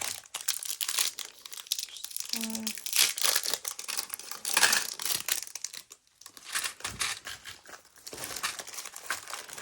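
Plastic packaging being torn open and crinkled while organizing craft supplies, with dense crackling and rustling bursts running throughout, close and fairly loud.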